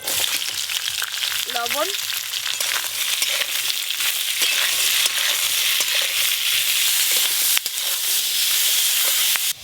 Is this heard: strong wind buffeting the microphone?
no